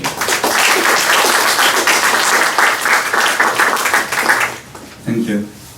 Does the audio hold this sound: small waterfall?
no